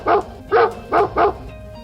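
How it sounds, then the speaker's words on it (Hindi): A dog barks four times in quick succession while chasing a man, loud, close and evenly spaced. "भौंकते हुए उसके पीछे पड़ जाता है।"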